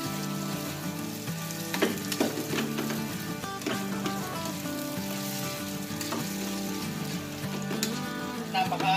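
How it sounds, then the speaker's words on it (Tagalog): Sisig fries steadily in a hot pan, a close, continuous sizzle with occasional scraping stir sounds, heard alone without talk. "Napakahabang proseso ng pagluluto ng sisig"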